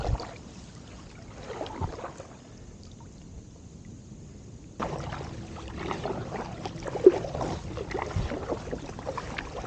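A BOTE Zeppelin inflatable kayak is paddled across a lake, with soft rhythmic paddle strokes and water swishes against light wind, no talk, and one sharper splash near the end.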